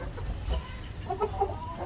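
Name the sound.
hen clucking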